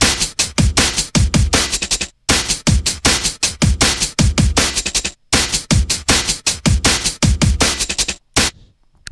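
A sliced drum loop played back from an RX2 file: punchy kicks, snares and hats in a steady, tight rhythm, loud and up front, with two brief gaps where the loop restarts and a sparse tail at the end.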